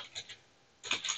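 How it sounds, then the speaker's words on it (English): Login details typed on a computer keyboard: a few soft keystrokes, a short pause, then a quicker burst of clicking taps, near and fairly quiet. "I got to type in my login information"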